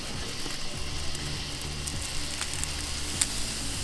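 A big rib eye steak sizzles on a hot grill just after flipping, a steady close hiss of fat and juices with faint crackles, continuous and alone with no talking.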